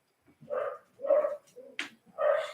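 A dog barks indoors, about four close, fairly loud woofs in an uneven rhythm with short gaps, one yelping note mixed in, and no talk over them.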